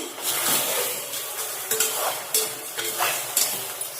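Mutton being stirred in a pot for biryani, with repeated scraping strokes of a spoon against metal over a steady sizzle, close and fairly loud.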